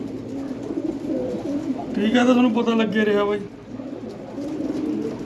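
Pigeons kept for flying coo in a bird-keeper's loft, a low steady murmur running beneath someone talking close by through most of the stretch.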